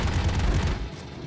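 A sniper gunshot in the video game Broforce, a short, heavy boom with a rumbling low tail lasting under a second, loud and close, followed by a quick fade.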